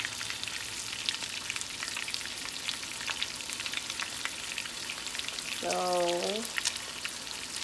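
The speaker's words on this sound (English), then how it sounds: "just going to finish cooking the remaining of our venison burgers" Venison burgers frying in a pan, a steady soft sizzle with crackling pops throughout, and a brief spoken word near the end.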